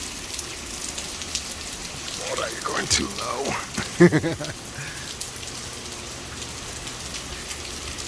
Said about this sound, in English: See the rain.